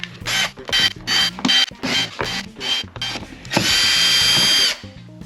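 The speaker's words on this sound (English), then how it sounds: "Get yourself a power drill," A power drill whirs in short repeated bursts, then runs in one longer steady spin, close and loud, removing torque screws during an Audi Q5 TDI oil change.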